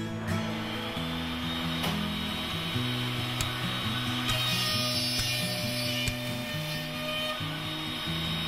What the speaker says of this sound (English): Move the LS to the first B cut that positions the cutter outside the fence and make the cut.